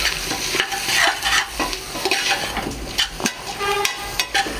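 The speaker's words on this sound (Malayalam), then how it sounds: "ഇതെല്ലാം കൂടി നന്നായിട്ടൊന്ന് വഴറ്റി കൊടുക്കാം" Spice powders for a pork curry being stirred and fried in a pan, with a steady close sizzle and repeated scraping strokes of the spoon throughout, no talking.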